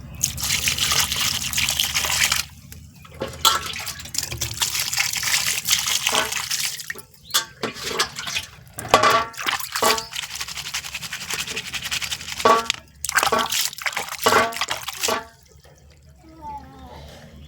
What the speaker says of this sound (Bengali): তো আমি মাছগুলো ভালো করে ধুয়ে নেবো।